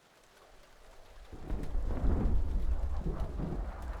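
Thunderstorm ambience in Metal Gear Solid 4: Guns of the Patriots, rolling low thunder that builds from quiet into a loud, sustained rumble over steady rain.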